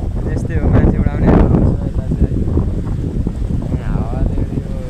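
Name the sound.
strong wind blowing into the microphone outdoors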